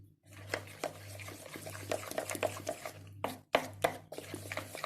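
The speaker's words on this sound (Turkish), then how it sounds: "Bu şekilde çırpıyoruz bir güzel" Whisk clicking rhythmically against a bowl while beating a thickening sauce for a bone broth soup, a quick steady series of light taps, fairly quiet and close.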